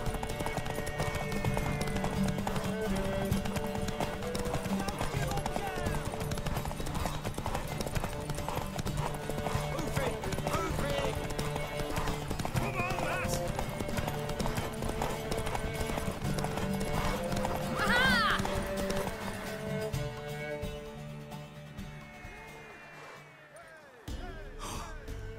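Steady hoofbeats of a horse galloping during a race in The Witcher 3 continue nearly unbroken, with occasional gasps and breathy effort over the rhythm, then fade toward the end.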